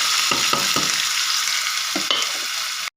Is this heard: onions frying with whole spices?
yes